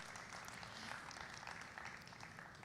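Audience applause at an Indonesian Youth Diplomacy session, a steady wash of clapping from a room of people that stays even and moderately loud throughout, with no pauses or voices standing out.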